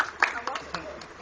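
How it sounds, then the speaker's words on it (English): A few scattered hand claps, about four separate bursts spaced unevenly, ring out for a young girl volunteer in a blue shirt at a live show, with a voice speaking throughout. "Let's give her a round of applause."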